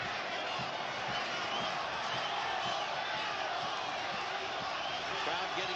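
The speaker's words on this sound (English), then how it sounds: "Crowd getting a bit impatient." Boxing arena crowd growing restless during a bout, a steady, dense murmur of many voices with scattered shouts, fairly distant and continuous throughout.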